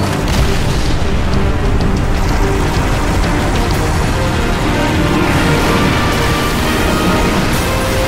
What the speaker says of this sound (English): Acquiring signal lock on the pylon. Detonating in 3, 2.